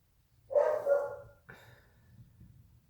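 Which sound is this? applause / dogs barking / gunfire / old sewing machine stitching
dogs barking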